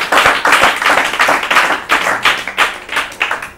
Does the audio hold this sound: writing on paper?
no